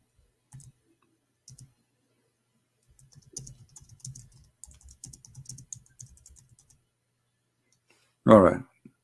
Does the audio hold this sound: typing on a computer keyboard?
yes